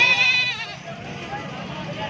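Rajanpuri goats with kids on a farm, bleating up close in a short burst over a dense background of mixed noise and chatter.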